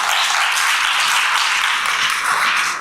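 Audience applause at a high school admissions information session, a dense, steady wash of many hands clapping that holds at full strength for the whole stretch, with no talking heard over it.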